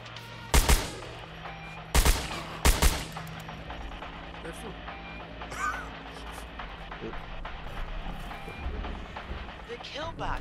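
Gunfire from an M249 light machine gun in the Scum survival video game: a couple of loud, close bursts early on, then a rumbling background with scattered distant shots while people talk.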